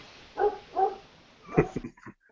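A dog gives a few short, soft barks and yips nearby, two quick woofs followed by a cluster of smaller sounds, fairly quiet with no talk over them.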